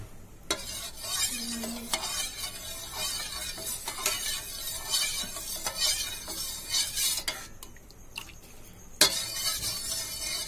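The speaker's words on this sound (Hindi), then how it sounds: "हमने दूध को ऑलरेडी बॉइल किया हुआ है और हम इसमें कस्टर्ड के जो हमने बैटर बनाए हैं उसको हम मिक्स कर लेते हैं" Custard batter being stirred into boiled milk in a pot, with a spoon scraping and clinking against the vessel in uneven bursts, a soft bubbling underneath and brief pauses.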